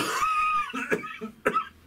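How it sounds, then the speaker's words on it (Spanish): A person coughs a few times in quick succession, harsh and close, with a rough, throaty quality between the bursts. "Voy a toser un momento."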